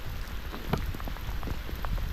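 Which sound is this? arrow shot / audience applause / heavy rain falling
heavy rain falling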